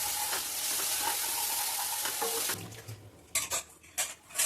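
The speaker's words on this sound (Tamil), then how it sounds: "எண்ணெய் நல்லா பிரிஞ்சு வந்ததுக்கப்புறம் நம்ம கொத்தமல்லி தழையை தூவி ஒரு தடவை கலந்து விட்டு அதை இறக்கிக்கலாம்" Tamarind puliyodharai mix with coriander leaves sizzles steadily in hot oil, then a spoon scrapes and stirs it in a few close, irregular strokes against the pan.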